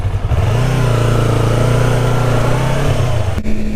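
A motorcycle engine revving while riding to work on a rainy day, a loud close mid-pitched drone holding steady then dropping off near the end, with no talking.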